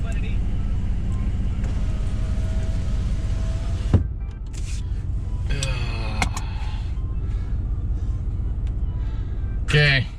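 A two-wheel-drive Ram 1500 pickup truck pushes through a big off-road mud hole, its engine rumbling steadily and loud throughout, with splashing bursts and brief clunks, while people talk inside the cab.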